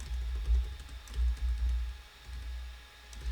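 Rapid, soft keystrokes on a computer keyboard, a close, steady stream of clicks with brief uneven pauses over a low background hum.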